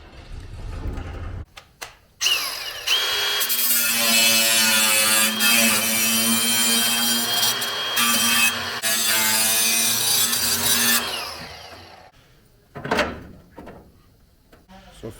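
A saw cutting through the sheet-metal bed of a C10 short-bed truck, a loud sustained harsh grinding rasp lasting about nine seconds, preceded and followed by clanks and handling noises.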